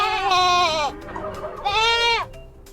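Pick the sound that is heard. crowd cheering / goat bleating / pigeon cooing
goat bleating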